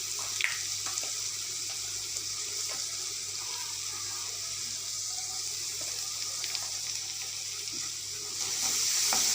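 Onion, ginger and garlic sautéing in a pan for a mushroom omelette gravy, a steady broadband sizzle with occasional stirring scrapes and clinks, close and continuous, with no talking.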